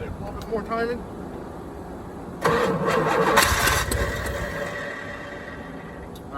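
A Corvette engine cranks and catches with a sudden loud start, then settles into a rough idle with an exhaust leak. A person speaks briefly before the engine fires.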